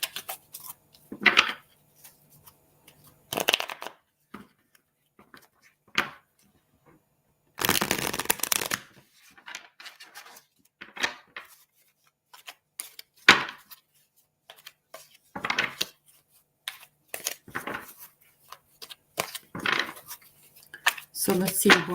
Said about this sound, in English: I'm going to pull some cards for you.